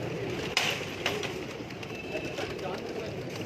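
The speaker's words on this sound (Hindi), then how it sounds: "ये दोस्तों चोइस साहब वाले कबूतर हैं माशाल्लाह।" Breeding pigeons in a loft in Lahore coo softly in a steady, murmuring background with a few faint flutters, quiet and close.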